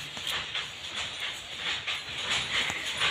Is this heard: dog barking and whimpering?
yes